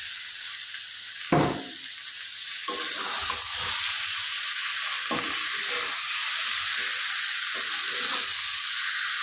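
Duck eggs and potatoes hit hot spiced oil with a sudden loud sizzle, then a steady frying hiss continues as they are stirred, with occasional scraping bursts and no talking.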